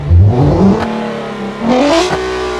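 The hoonitruck's engine revs twice, pitch climbing sharply then settling back to idle, loud and close with no talking.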